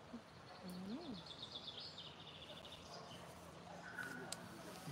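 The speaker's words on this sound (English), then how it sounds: "But a strange bird sitting behind us." An unidentified bird calls from riverside reeds near Horstead Mill during an evening fishing session, giving faint, thin chirps and rising whistles over a quiet, hissy outdoor background.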